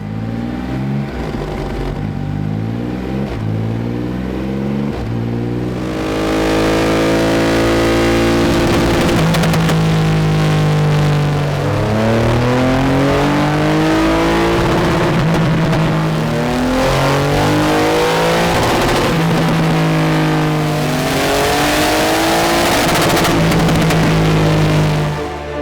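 A Triumph Rocket 3 GT Euro 5 motorcycle runs on a dyno on stock software, its loud, close engine idling, then revving up and down through repeated rising and falling sweeps in pitch, with no talking.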